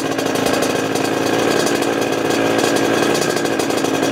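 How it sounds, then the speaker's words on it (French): A motorcycle engine runs steadily at idle after restarting from three months unused, a constant buzzing drone with a rattly edge, close and loud with no other sounds. "Mais c'est reparti, on va la laisser chauffer un petit coup."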